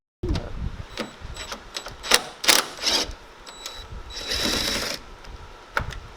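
Screw being removed from a damaged Dodge Ram fender near the headlight, heard as a series of ratcheting, clicking mechanical bursts with short pauses, close and moderately loud.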